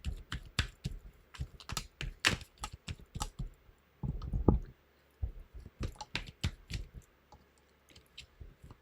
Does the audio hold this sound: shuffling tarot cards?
yes